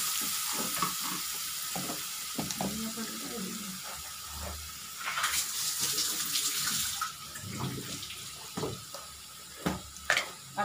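Onion frying in a pan for a dhaba-style green pea kachori filling, with soft sizzling and stirring clatter mixed with water-like hiss, broken by a few sharper clicks and a brief louder burst midway.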